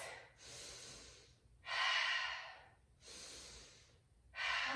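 Slow, audible breathing while holding a suspension-trainer exercise pose, with long steady inhales and exhales in a clear alternating rhythm, close and fairly loud, with no talking over it.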